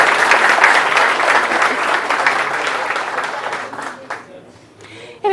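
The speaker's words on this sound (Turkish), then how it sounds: "Bir alkış da onları istiyorum lütfen." Audience applause for a folk dance team at a televised music night, dense and steady clapping that fills most of the clip before thinning out toward the end.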